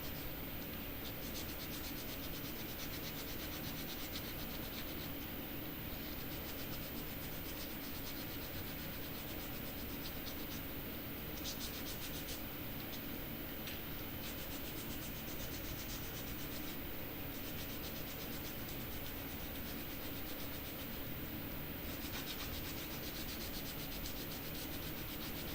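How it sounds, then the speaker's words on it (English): A wire-wrapped heart pendant is sanded by hand in steady, continuous rubbing strokes, soft and even, with no voices. "So that's how I sand"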